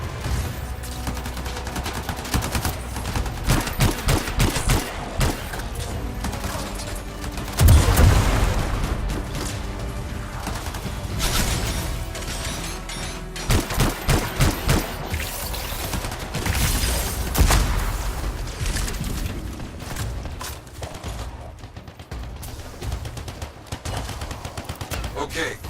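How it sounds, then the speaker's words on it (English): Gunfire in the video game Anthem fights against Sentinels, with dense bursts of automatic fire and a heavy boom near the eight-second mark, continuing loudly throughout amid voices. "Sentinels and a lot of gunfire."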